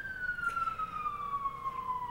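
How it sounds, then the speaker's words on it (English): Emergency vehicle siren passing by outdoors, one loud, clear tone that slides gradually lower as it goes past, heard alone with no talking. "We'll wait till that lovely siren goes by."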